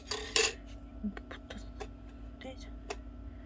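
A metal pot scraped and tapped with a utensil while cooking ramen: a couple of louder clanks, then scattered light clicks and scrapes over a steady low hum.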